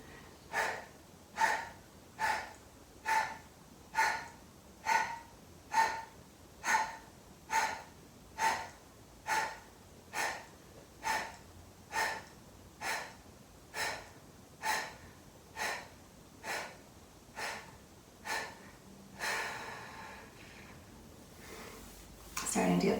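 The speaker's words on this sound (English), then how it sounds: "you're just going to contract your abs repeatedly, and that will automatically force an exhale" During a yoga core workout, sharp forced exhales come from repeatedly contracting abs: about twenty steady, evenly spaced puffs of breath at a brisk rhythm, close and fairly quiet, ending in a longer breath.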